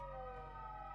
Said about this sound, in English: Police cars, fire trucks, ambulances coming and going in every direction.